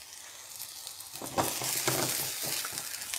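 Oyster mushrooms and sliced red pepper hitting a hot oiled pan, quiet at first and then a loud continuous sizzle with scattered stirring clatter, close up and without any voices.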